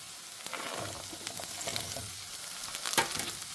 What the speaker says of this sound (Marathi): तर आता आपण हा चांगला फ्राय करायचा आहे व्यवस्थित.